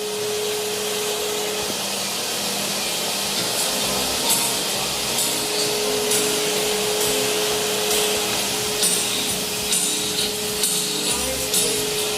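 A vinyl record cutting lathe's suction extraction system runs as a steady loud hiss and whoosh, with a constant tone dropping out early and faint rubbing ticks layered on top; no talk.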